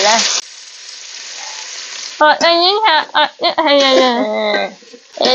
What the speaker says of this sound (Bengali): এখন আমি রসুন দিলে পোড়া পোড়া করবো এই তো রসুন দিলে ভাজা ভাজা